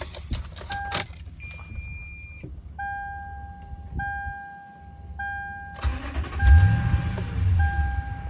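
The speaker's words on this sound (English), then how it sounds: "Let me go do a key cycle here so you can hear it start up." A 2008 Toyota Tundra Limited CrewMax pickup with keys jingling and dashboard chimes as the ignition cycles, then the engine cranks and fires up into a low, steady idle, heard from inside the cab.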